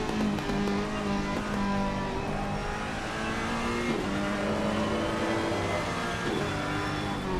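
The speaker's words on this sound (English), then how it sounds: "Last of the Ferrari V8 GTs." Ferrari 488 GT3 Evo V8 racing engine at Brands Hatch in a racing video game, roaring steadily from onboard with continuous high revs and gear-shift dips throughout, loud and unbroken.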